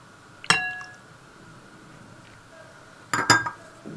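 A utensil stirs an egg and yogurt sauce in a bowl, sounding as two short bursts of bright clinking against the bowl, separated by near quiet.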